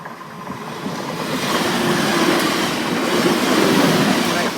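A TransPennine Express Class 185 diesel unit passes the Elsham level crossing in North Lincolnshire, a steady broad rush that swells after the first second and holds loud and close to the end, with no clear talk over it.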